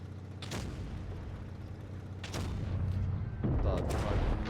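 Heavy booming tank cannon shots in a video game go off one after another, three deep blasts spaced a second or two apart over a constant rumbling engine drone.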